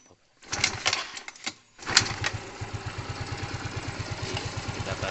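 A motorbike engine that had trouble responding to the throttle cranks on the starter, then catches and runs with a steady, rapid thumping idle that holds close and loud after a short stretch of starter whirring and clanks.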